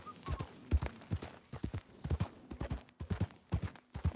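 Horse hooves clip-clop in Red Dead Redemption 2, a steady trotting rhythm of sharp, close knocks repeating about twice a second throughout, with no talk over them.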